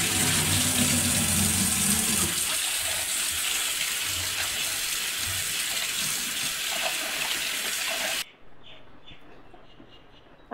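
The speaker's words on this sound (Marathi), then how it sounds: "स्वच्छ 3-4 पाण्याने धुवायचं, म्हणजे त्याचा जो वास असतो तो निघून जातो" Raw chicken washed in a sink under a strong running tap gives a loud, continuous gush of water with splashing. The flow cuts off abruptly near the end, leaving near silence.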